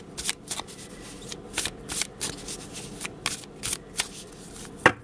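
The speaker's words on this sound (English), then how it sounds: "So I'm going to shuffle and select a card from each deck." A deck of tarot cards is shuffled by hand in a quiet room, a run of close, crisp riffling bursts in an irregular rhythm.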